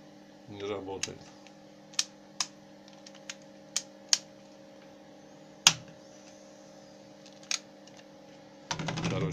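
Sharp, isolated clicks from pressing the buttons of a non-working hotel hair dryer, about eight separate presses spaced irregularly over a steady room hum, with a brief voice at the start and another sound near the end.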